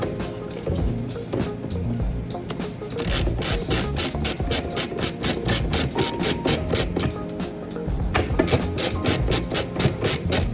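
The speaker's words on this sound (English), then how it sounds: "now we'll finish those with the ratchet here" A hand ratchet clicks in rapid bursts while tightening the rear strut bolts on a 2002 Lexus RX300, close and sharp, with short pauses between runs of fast metallic clicks.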